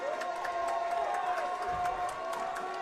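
A crowd cheers throughout at a high school basketball game between Del City and Midwest City. The steady roar of voices mixes with claps, and a sustained tone runs underneath.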